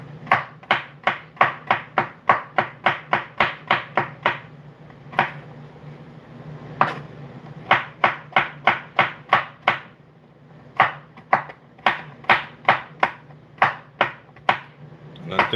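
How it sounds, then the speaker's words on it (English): A knife chops rapidly through coconuts on a hard surface in a kitchen while making Jamaican drops pastry, quick rhythmic bursts of sharp strokes separated by brief pauses. "I'm just about done cutting these 2 coconuts."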